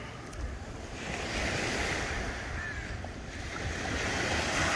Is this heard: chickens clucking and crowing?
no